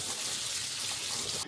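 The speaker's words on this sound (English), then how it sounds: "so let's just rinse these in cold water." Cold tap water runs steadily over cooked garbanzos being rinsed, a constant close splashing rush that cuts off abruptly at the end, with no talk.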